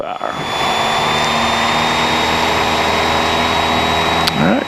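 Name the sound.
small airplane engine at full power during takeoff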